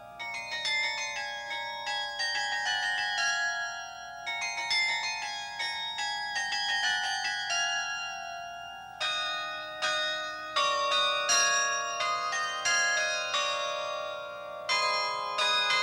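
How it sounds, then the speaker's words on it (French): Church bells ring in a bell tower, a series of bright, resonant strikes in overlapping phrases with long ringing decay, clear and fairly close, with no voices. "Dans mes oreilles, fais tinter toutes les cloches de ton clocher."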